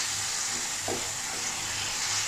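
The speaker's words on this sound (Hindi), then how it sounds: "ऑयल मेरा गरम हो गया है, यहाँ पे मैं डालूँगी 1 टीस्पून लहसुन का पेस्ट, बस इसको हल्का सा मैं 1-2 सेकंड के लिए भून लूँगी।" Garlic paste sizzles in hot oil: a steady, bright, close frying hiss that holds evenly throughout, with one soft stirring touch partway through.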